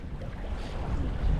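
A gust of wind outdoors while bass fishing, a low rumbling buffet against the microphone that swells toward the end, loud and close with no talk.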